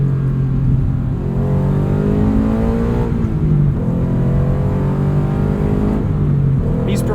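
Sports car with a full aftermarket exhaust revving hard, engine note climbing and falling in repeated pulls, loud and close, with no talking.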